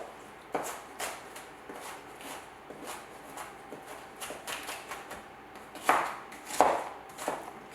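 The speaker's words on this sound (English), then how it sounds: "Just get it chopped up." Okra being sliced with a knife on a cutting board gives a run of light, irregular chopping taps, fairly faint and close, with a couple of sharper knocks near the end.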